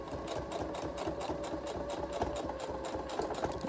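Sewing machine running steadily to stitch a replacement zipper into fabric, a close, continuous rapid mechanical chatter with a fast even rhythm and no pauses.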